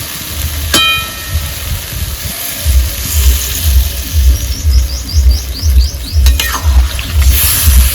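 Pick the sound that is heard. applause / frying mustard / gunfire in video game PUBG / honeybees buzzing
frying mustard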